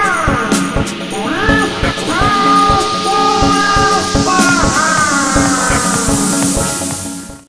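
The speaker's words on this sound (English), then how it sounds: "create really cool audio drops that you can put over your sets" Dense DJ audio drop recorded through a laptop's built-in microphone in Traktor Pro, with loud layered music, gliding tones and a noise sweep rising steadily in pitch across the whole stretch.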